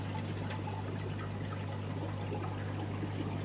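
Filtered water trickles and bubbles steadily in a pleco fish tank. The flow is close and continuous over a constant low pump hum, with no voices.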